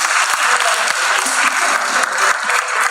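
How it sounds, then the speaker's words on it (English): A crowd at the Anand Rathi Wealth stock exchange listing ceremony claps for the CFO, a full, continuous round of applause held at steady loudness from start to finish. "Let's have a huge round of applause for him."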